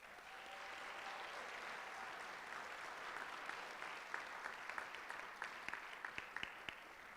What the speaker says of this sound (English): So how about a round of applause for all of the members of the DePauw Athletic Department?